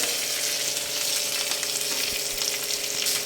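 Onion fries with chopped green chili and curry leaves in a loud, close sizzle. A dense hiss holds steady across the whole short stretch, with a few faint taps from stirring.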